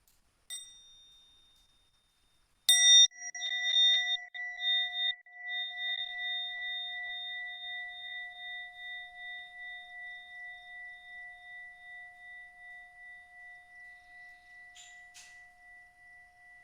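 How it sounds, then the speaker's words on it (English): A mindfulness bell is struck once softly, then rung firmly, and its clear pure tone lingers and slowly fades over many seconds in a quiet room, with a faint tap near the end. "As we practice deep listening and presence with the bell."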